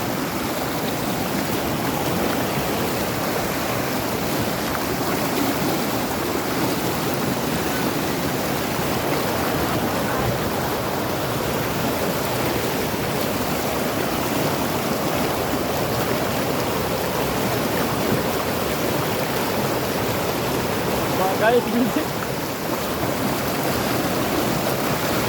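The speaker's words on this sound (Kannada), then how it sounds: "ಗೈಸ್ ಹೋಗಕ್ಕೆ ಆಯ್ತಾ ಇಲ್ಲ, ನೀರು ಕಚ್ಕೊಂಡು ಹೋಯ್ತೈತೆ." Floodwater rushes through the river at the Manchanabele dam in Karnataka, strong enough to sweep a person along, heard as a loud, steady, close roar of churning water with no letup.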